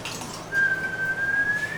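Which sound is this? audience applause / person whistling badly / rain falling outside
person whistling badly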